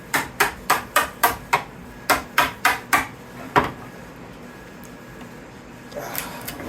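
A hammer strikes epoxy molds to knock them apart, landing two quick runs of about six sharp, evenly spaced blows each, then a single heavier hit, followed by quieter shuffling.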